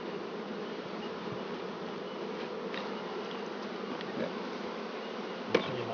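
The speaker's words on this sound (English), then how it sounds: "Shake the bees off him." Honey bees swarm and buzz steadily around an opened hive as it is emptied, a dense, continuous drone close by with a few louder passes of individual bees near the end.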